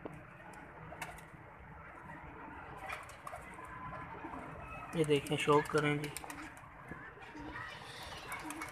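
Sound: pigeons cooing while landing for grain

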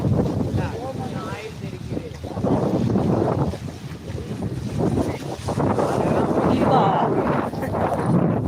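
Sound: wind blowing at Manora, Pattukkottai

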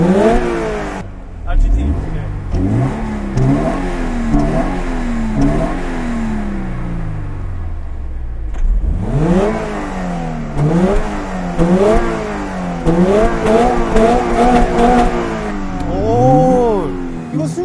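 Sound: sports car engine revving at high rpm

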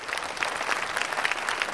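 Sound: audience applause

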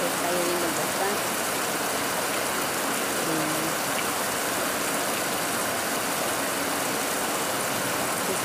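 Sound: heavy rain falling

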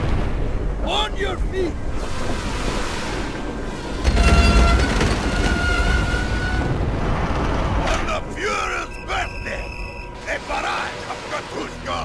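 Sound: train riding in video game Call of Duty World at War

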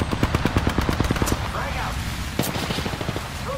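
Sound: gunfire in video game Apex Legends

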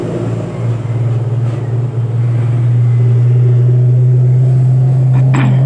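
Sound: loud car traffic passing

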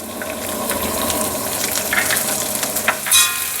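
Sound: shallots and dried red chillies sizzling in the pan

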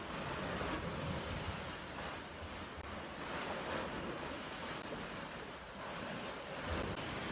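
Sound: rough sea waves

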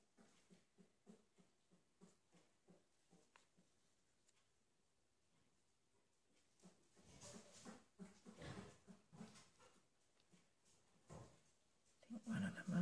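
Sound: mother dog with whimpering puppies

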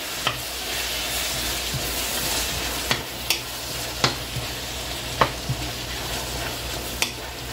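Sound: stirring peppers and onions frying in a pot

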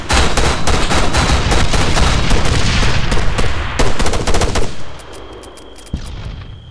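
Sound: gunfire in the video game Arma 3

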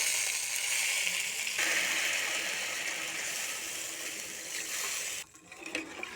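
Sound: broth poured into pan of potatoes fried with spices

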